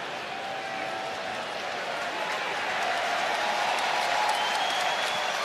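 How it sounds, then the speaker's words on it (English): A baseball crowd at a Pittsburgh Pirates versus Chicago Cubs game applauds the ball boy, a steady wash of distant clapping and cheering that swells slightly toward the end. "Crowd acknowledging the ball boy."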